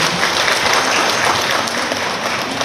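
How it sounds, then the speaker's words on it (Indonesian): Loud, dense applause from an audience at a gathering of ceramics small-business owners, continuous crowd clapping close and steady throughout with no talking. "Tepuk tangan dulu."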